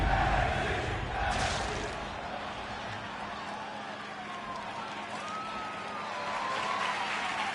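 A capacity crowd at a wrestling event in Virginia makes a broad, steady roar that swells and fades, with a commentator talking faintly over it.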